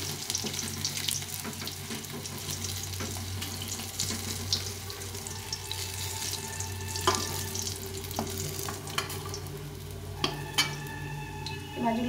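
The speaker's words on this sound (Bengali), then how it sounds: "মাছগুলো ভেজে নিয়েছি, এখন বাকি মাছগুলো ভেজে নেব এই তেলে।" The rest of the shol fish frying in oil, a steady sizzle and crackle heard up close, with occasional utensil clinks and scrapes toward the end.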